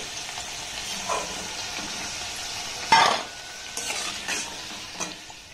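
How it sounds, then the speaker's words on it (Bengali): Flour sweets frying in oil, a low steady sizzle broken by a sharp clatter of a utensil against the pan and a few lighter knocks. "আর একইভাবে সবগুলোকে আমি ভেজে নেব।"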